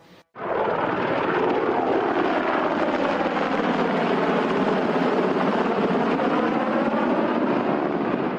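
A UH-60 Black Hawk helicopter roars steadily and loudly, its broadband rotor and engine noise filling the whole stretch after a brief quiet start, with no voices.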